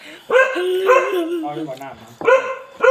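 A dog at a farmhouse in the countryside barks and yips in close, loud bursts, with a brief whimpering note between the barks and no talk.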